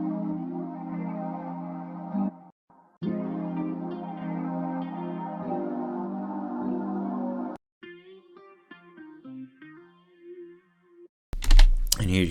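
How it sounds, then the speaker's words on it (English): A chopped-up guitar sample plays sustained tonal slices cut off abruptly, then sparser plucked fragments follow, ending in a louder burst; no talking. "I actually have a chopped up guitar sample"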